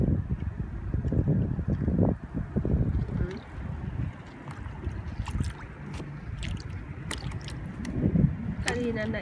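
Boat engine and water noise as a fishing boat passes through a rotated, opened bridge, with steady wind rumble on the microphone and people talking throughout.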